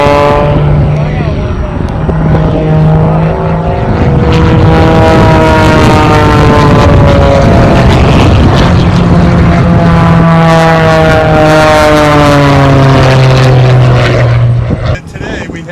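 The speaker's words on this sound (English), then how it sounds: "you can see the planes that have been flying behind me" Propeller aircraft fly overhead during air show rehearsal, a loud continuous drone with sweeping pitch changes as planes pass, rising and fading across the scene, with a voice speaking beneath the engine noise.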